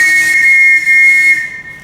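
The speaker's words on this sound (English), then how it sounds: "Everyone in this house answers to a whistle." A sharp, steady whistle blown in a large estate house to call the household servants, one sustained shrill blast for about a second and a half with a brief break, then fading out, loud and alone.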